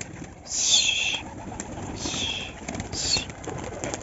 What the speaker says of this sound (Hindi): ये उड़ गए भाई सारे कबूतर